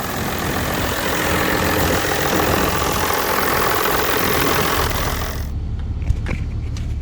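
John Deere 7420 tractor engine running steadily after an injection pump repair, a loud, even idle that drops to a quieter, lower rumble near the end.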